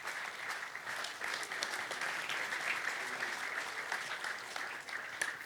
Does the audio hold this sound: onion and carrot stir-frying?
no